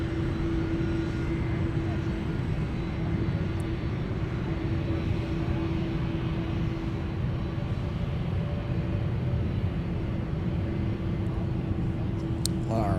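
Boeing 767 jet engines at Minneapolis airport produce a steady, loud, continuous roar and whine throughout, with a high tonal hum over broadband rumble.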